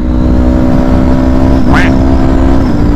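A Kawasaki Ninja 400 with a quick shifter drones loudly and steadily under throttle, with a brief rising whine partway through as a gear changes, all under heavy wind rush.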